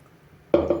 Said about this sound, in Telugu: వాటర్ కొంచెం వేసుకోవాలి.